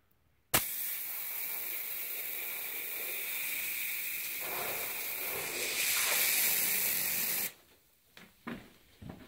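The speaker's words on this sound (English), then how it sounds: "as I start spraying this stuff, they'll follow the spray back towards me" An insecticide aerosol sprays at a wasp nest, starting abruptly in a loud continuous hiss that strengthens partway through and then cuts off after about seven seconds, leaving a few faint knocks.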